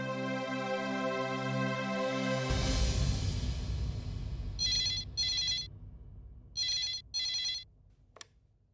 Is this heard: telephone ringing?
yes